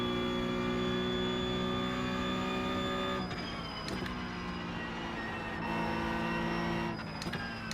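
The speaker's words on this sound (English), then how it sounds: "I heard the cool faster car coming up quick and I looked in my mirrors to see where that GT3 was." A GT3 race car closes in fast on the Nürburgring Nordschleife in iRacing, its engine a loud, steady tonal drone that rises with sharp shifts, heard alone without talk.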